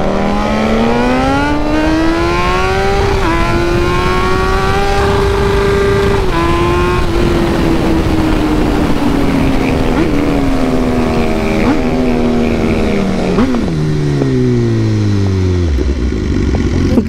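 A Honda Twister and a CRF 450 motorcycle racing, with loud, steady engine roar throughout and a rising then falling pitch as the bikes rev, shift and pass, dropping sharply near the end.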